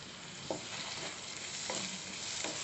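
Masoor dal with coriander frying in a pan, a faint, even sizzle broken by a few light stirring scrapes, quiet and close.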